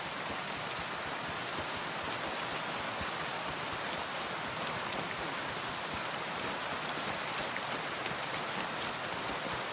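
Rain falls in the video game Kingdom Come: Deliverance II as a constant, full hiss of many drops striking the ground, close and unbroken for about ten seconds, with no speech.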